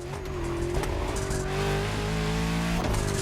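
A luxury hypercar with four-figure horsepower revs hard in The Crew Motorfest, its engine droning at a steady high pitch with tire squeal and skidding layered over a loud, sustained roar.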